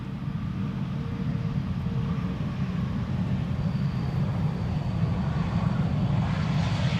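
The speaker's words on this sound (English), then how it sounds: "Sure looks like an A350." An Airbus A350 wide-body airliner passes fairly close by near Schiphol Airport, its engines a steady, deep roar that swells slightly toward the end, alone with no talk.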